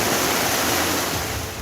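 Floodwater rushing fast along a road from Gokuldham in Rajkot, Gujarat, after heavy rain, a loud, unbroken torrent-like roar with no voices over it.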